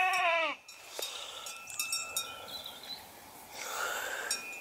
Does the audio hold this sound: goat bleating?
yes